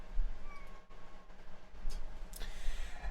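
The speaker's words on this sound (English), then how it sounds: "I'm wanting to make sure these cats don't get too adventurous" A house cat meows a few times at close range, short and faint over a quiet room with soft background hum, no talking.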